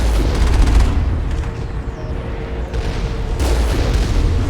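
Gun turrets in Mass Effect fire in rapid bursts of loud booming shots, heavy volleys at the start and again near the end with a dense rumbling spread between them.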